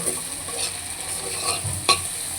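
A potato and Malabar spinach seed stir-fry with fresh coriander leaves being stirred in a pan: a close, steady sizzle broken by quick scraping strokes of a spatula, with no talking.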